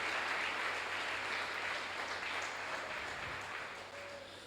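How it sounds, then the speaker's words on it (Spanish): A church congregation claps together during a worship service, producing a dense, sustained wash of applause that fades slightly toward the end, heard from within the crowd with no clear talk. "Dale un aplauso al Rey."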